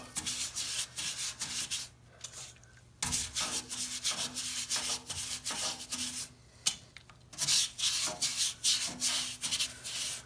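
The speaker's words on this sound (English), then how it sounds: "I'm getting all the rust and whatnot up. Just surface rust on the stainless." Repeated scrubbing strokes rub surface rust off a stainless steel part of a Munchkin boiler, a rhythmic rasping sound with short pauses, close and fairly loud.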